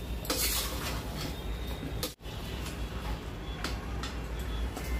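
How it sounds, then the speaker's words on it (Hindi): Onion, tomato, ginger and garlic paste frying in a pan over medium heat, with continuous close scraping and light metallic clinks from stirring, one brief pause midway, and no talking. "करीब 7 से 8 मिनट के लिए भून लेती हूँ मध्यम आंच पे"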